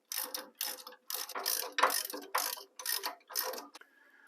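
A ratchet snugging 15/16 bolts on a Wilwood front disc brake bracket, heard as eight or so quick clicking bursts with short pauses between them, close and clear against a quiet background.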